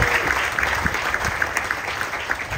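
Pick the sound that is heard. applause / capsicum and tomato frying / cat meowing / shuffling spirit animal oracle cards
applause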